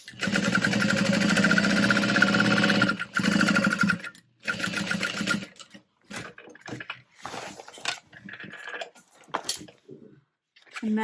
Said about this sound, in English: I'm going to iron this so we can top stitch through the lining and the exterior